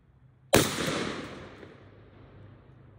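A single loud, close rifle shot from a scoped Zastava rifle cracks sharply, then decays over about two seconds of echo across an outdoor range.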